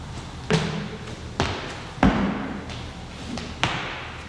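Double-leg box jump landings in a lower-body workout, four heavy, close thuds spaced roughly a second apart, each followed by a short ringing decay in a room.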